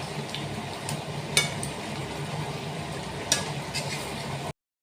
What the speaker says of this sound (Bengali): আলুগুলো যেগুলো ভেজে রেখেছিলাম দিয়ে দেবো। এটা ভালো করে কষিয়ে নেব।